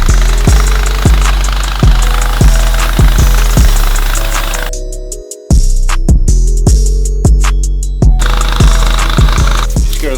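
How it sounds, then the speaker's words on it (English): A power washer runs loud and close, its engine throb punctuated by regular heavy thumps before a brief gap, then the pulsing pounding resumes. "Scared of the power washer."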